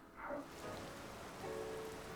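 Steady rain in the video game Zelda: Tears of the Kingdom, a soft even patter lasting the whole moment, quiet and continuous with no voices.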